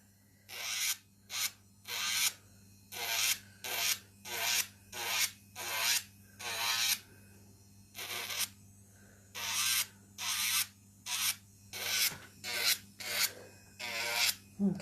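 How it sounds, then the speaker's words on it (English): Fingernails are filed with a nail file in rapid rasping strokes, about twenty short scrapes in a regular back-and-forth rhythm, close and crisp over a low steady hum. "Filing my own nails away."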